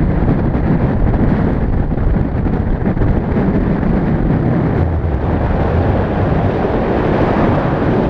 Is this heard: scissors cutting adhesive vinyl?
no